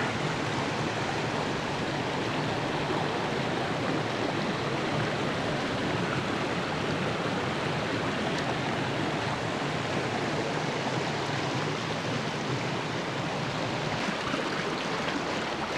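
Steady, full rushing of a flowing river in Jordan, constant and close, with no pauses or voices.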